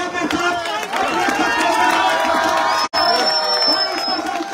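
A crowd at a political rally for an office inauguration in Shamli cheers and whoops loudly and steadily, a dense roar of many voices with shouting and chatter throughout, briefly cut off near the end before resuming.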